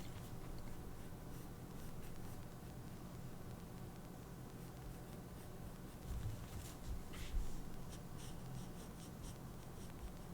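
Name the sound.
pencil sketching on paper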